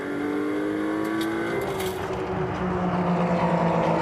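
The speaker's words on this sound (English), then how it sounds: "Mugelli accelerates away" A Ferrari Challenge Europe race car at Valencia accelerates away, its engine note climbing steadily and loud, with other cars' engines droning close behind throughout.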